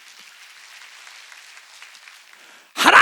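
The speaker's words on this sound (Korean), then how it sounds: "박수 치려면 세게 치라고" A Korean church congregation at a mountain prayer gathering claps faintly and steadily at a distance, then a sudden loud, close burst of clapping breaks in right at the end.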